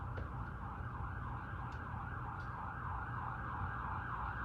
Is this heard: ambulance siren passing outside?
yes